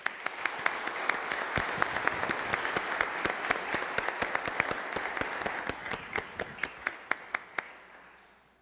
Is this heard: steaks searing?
no